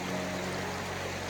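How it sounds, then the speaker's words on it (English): A forest stream in the Pennsylvania wilds flows steadily along a hiking trail, a continuous close rushing wash of water with no voices. "Have to cross this stream here."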